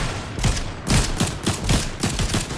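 A series of sharp gunshots in Fortnite, about six evenly spaced loud cracks close by in quick succession during a squad match.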